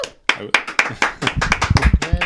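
A live show audience claps during a jazz episode on saxophonist Charlie Parker, a short burst of sharp, close claps with voices mixed in.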